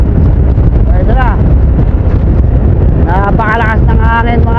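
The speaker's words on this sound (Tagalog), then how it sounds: "Napakalakas ng hangin, mga idols." Strong wind roars continuously into the microphone during a road bike race, a heavy, steady buffeting rumble throughout, with a voice speaking over it.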